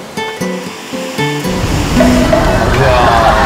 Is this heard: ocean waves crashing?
yes